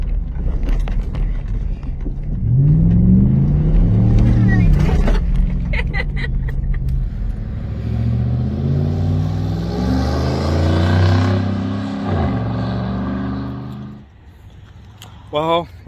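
A truck engine rumbles and revs while driving in four-wheel drive, a loud, close, low drone that rises and falls in pitch, with people talking over it.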